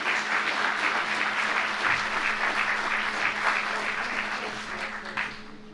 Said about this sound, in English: let's give ourselves an applause for getting this done